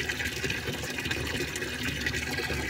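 Water poured out for a dog to drink, a steady splashing pour running continuously and fairly close without pause and with no talking over it.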